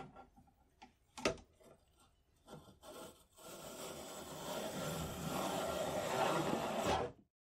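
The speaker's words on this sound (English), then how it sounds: "I'll use the same brush, which will further conform down to the bore size." A few sharp taps and short scrapes give way to a steady, rough scrubbing of a brush working inside a rusty Kar 71 rifle barrel bore, close and continuous.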